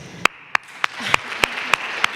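A handful of sharp, separate hand claps from a talk audience, spaced at an even, slow rhythm over a quiet room hum, with no talking.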